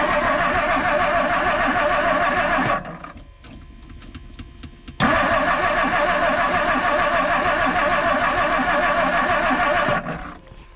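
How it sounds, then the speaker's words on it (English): A 1959 Edsel Ranger engine cranks and fires, a loud, rough mechanical churning that drops away briefly after a few seconds, then surges back and runs steadily before cutting off near the end. "hit it and see if she'll crank."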